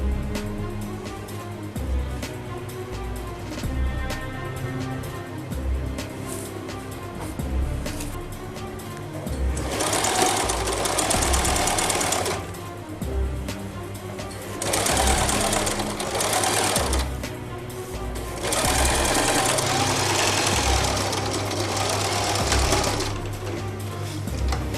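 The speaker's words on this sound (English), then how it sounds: "So I'm sewing this way." A sewing machine stitches the crown of a fila native cap to its lining, running in three steady whirring bursts with short pauses between them over a low, continuous hum.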